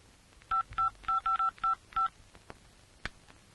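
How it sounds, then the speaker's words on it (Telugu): A quick run of seven telephone keypad tones, short evenly spaced beeps, followed by a couple of faint clicks, as a call is placed to a police inspector. "ఇన్స్పెక్టర్ గారికి ఫోన్ చెయ్యి"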